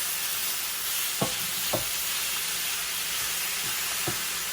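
Thinly shaved beef fries in a pan on a stove set to high, giving a steady close sizzle and hiss with a few soft scraping clicks.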